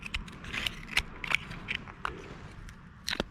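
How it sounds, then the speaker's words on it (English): An oyster knife stabs and wriggles into an oyster shell on the Hood Canal to cut the muscle, making faint, irregular close clicks, scrapes and crunchy snaps. "Just stab the oyster, wriggle it in there, and get to that muscle, and then cut the muscle away."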